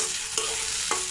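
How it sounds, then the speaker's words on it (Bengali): Spice paste for a fish curry, made with raw tomato and ground masala, stir-fried in a pan: a steady sizzle with two distinct scraping stirs of the spatula, close and fairly loud, no voices. "এখন মশলাটা ভালো করে কষিয়ে নেব।"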